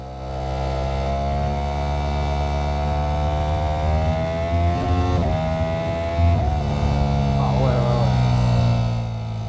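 A 2025 Ducati Panigale V4S sport motorcycle engine idles steadily and loudly up close, with a few brief revs rising and falling in pitch.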